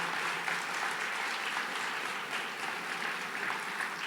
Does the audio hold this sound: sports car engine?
no